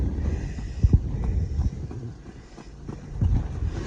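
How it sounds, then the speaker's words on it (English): Gusty wind whipping a tarp held on one side, producing loud flapping buffets and low rumbling bursts with heavy wind noise on the microphone. "You see, when we go into the wind, the tarp goes crazy."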